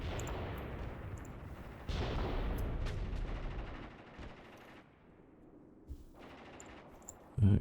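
Gunfire from the Graviteam Tactics war game rattles in a dense, continuous roll of machine-gun and rifle fire with heavy reports, mid-distance, easing off partway and then swelling again, with no talking.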